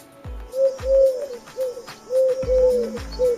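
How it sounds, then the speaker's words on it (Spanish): White dove cooing nearby, a series of soft, hollow, repeated coos with brief pauses between them. "¿De dónde viene ese sonido? ¿Una paloma blanca?"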